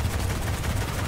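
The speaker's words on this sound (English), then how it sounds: "Now I'll pull out my machine gun." Machine gun fire in Destiny: Rise of Iron rattles as a dense, steady stream of rapid shots, loud and close, with no talking.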